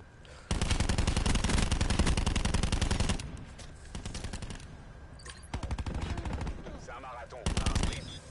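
Burst fire from the GKS gun in the video game Call of Duty Black Ops 4, rapid loud close-range rattles in several long strings with short pauses, the first burst the longest.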